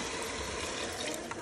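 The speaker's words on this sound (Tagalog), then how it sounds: "Nalagyan ko na po siya ng tubig." Water runs steadily into a pot of rice and sticky rice being readied for arroz caldo, a close, even rushing pour with no one talking.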